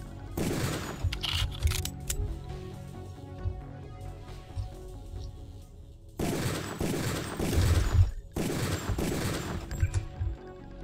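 Gunfire from the video game Deus Ex: Revision, loud bursts of rapid shots in a cluster at the start and again in two dense volleys near the end, with quieter game ambience between.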